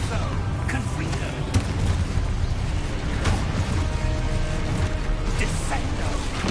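Blasting spells like Confringo and Exposo detonate in Hogwarts Legacy, producing a dense, continuous wash of booming impacts and crackling bursts with sharper blasts standing out every second or so amid the game's busy battle sound.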